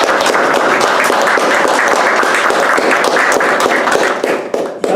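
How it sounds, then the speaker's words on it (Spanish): An audience at a 2021 convocation gives a guest a strong round of applause, dense steady clapping that stays loud throughout before thinning out in the last second. "vamos a darle un fuerte aplauso por su presencia"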